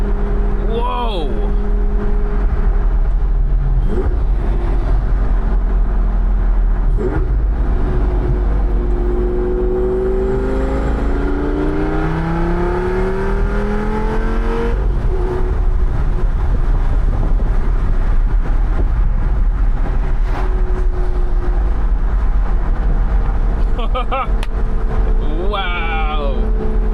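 A 2007 Lamborghini Gallardo with a V10 engine roars loudly and steadily from inside the car as it drives, its pitch sweeping up and down through gear changes, with brief exclamations from an occupant.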